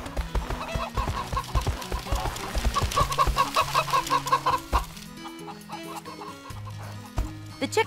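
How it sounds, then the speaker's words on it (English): Chickens cluck repeatedly in the My Horse & Me video game as they peck at corn, the bird calls mixed with steady game music and a few short sound effects throughout. "The chickens are eating the corn!"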